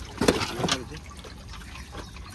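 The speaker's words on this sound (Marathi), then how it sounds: "ती बालदी आहे पाणी काढतोय" Water bailed out of a fishing boat with a bucket: a couple of close splashy sloshes early on, then soft trickling, with people talking nearby.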